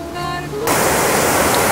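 Al Jannat waterfall in Kashmir roaring as a steady, loud wash of rushing water that swells in after a brief tonal hum, continuing unbroken to the end.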